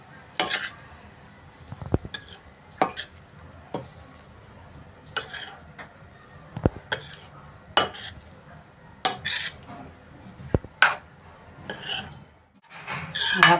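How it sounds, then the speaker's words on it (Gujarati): Spoon stirring a grated sev khamni mixture in a metal pot, repeated scraping clinks in irregular bursts with quiet gaps between, close and fairly loud. "એની અંદર જ આપણે નાખી દઈશું સરસ રીતે મિક્સ કરી દઈશું"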